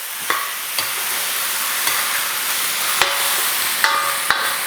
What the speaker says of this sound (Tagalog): Ginigisa ko lang to hanggang sa mag-brown na yung outer part.